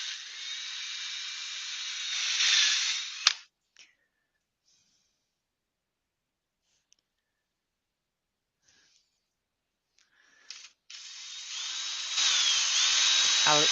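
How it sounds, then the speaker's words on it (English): A power drill boring holes in a wooden part whines steadily for about three seconds and stops abruptly. A long stretch of near silence follows, and then the drill starts up again and runs to the end. "Put them in there, and we'll drill."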